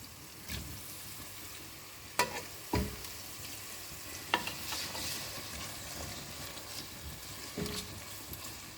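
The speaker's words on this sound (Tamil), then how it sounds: "ஒரு தக்காளி," Tomato sautéing in a pan for tomato rice, a soft continuous sizzle broken by several sharp scraping strokes of a spoon stirring, close and fairly quiet, no voices.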